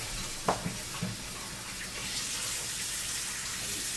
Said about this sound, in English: let me give this a rinse. Green onions we could rinse too, why not?